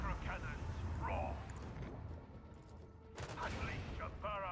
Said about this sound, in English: Unleash a barrage of destruction. Show them the fury of our macro cannon.